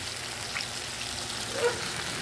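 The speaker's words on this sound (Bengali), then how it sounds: "এদিকে প্রচণ্ড বৃষ্টি হচ্ছে দেখো বন্ধুরা বৃষ্টি হচ্ছে খুব" Heavy rain falling outside while okra fries in a pan, a constant soft patter and hiss with faint scattered drips, fairly quiet and even, no talking.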